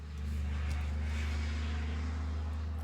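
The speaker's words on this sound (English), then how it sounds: "that was probably like a logging truck or something like that" A logging truck passing by outside, heard as a low, steady engine rumble with broadband road roar that swells and holds across the clip, fairly distant and muffled, with no talk over it.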